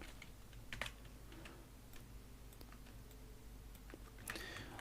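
Someone types on a computer keyboard, entering a word in a design program: soft, close, irregular key clicks with a slightly louder burst near the end, over a low steady hum and no speech.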